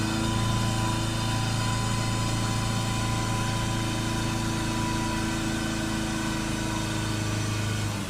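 A car engine is revved and held at around 3000 RPM, a steady, even drone with a strong hum and a constant pitch that barely wavers, heard alone and close.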